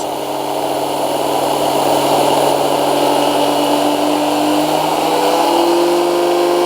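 A ToolMania bench grinder spins up to higher RPM, giving a loud continuous motor whine that holds steady with a slowly rising tone near the end, with no talk.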